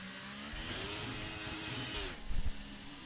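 An Alfa Romeo race car in a racing video game on the Singapore circuit, its engine droning steadily with falling pitch, then a short burst of louder revving near the end.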